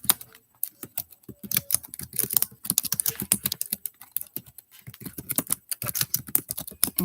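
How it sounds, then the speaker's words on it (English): Rapid, steady keystrokes clatter on a computer keyboard as a quote is typed out, close and alone with brief pauses between bursts. "So I'm going to type this quote real quick."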